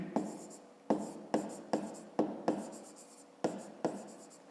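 Pen scratching across paper in a fifth-grade math exercise notebook, about seven distinct strokes with short pauses between them, close and fairly quiet, with no talk.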